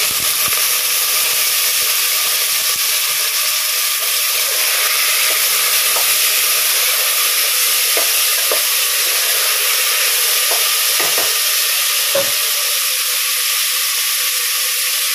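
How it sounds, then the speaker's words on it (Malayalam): Potatoes and peas sizzle and fry steadily in hot coconut oil for a Thrissur-style Onam sadya masala curry, a dense continuous hiss with occasional soft stirring knocks, close up and with no talking. "അപ്പൊ നമ്മള് ഉരുളൻകിഴങ്ങും പട്ടാണി ഈ വെളിച്ചെണ്ണയിലേക്ക് ഇട്ട് കൊടുത്തിട്ട് ഒന്ന് വാറ്റാട്ടാ"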